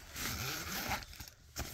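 A zipper is pulled open in one quick scratchy run, followed by a brief rustle, close and fairly quiet.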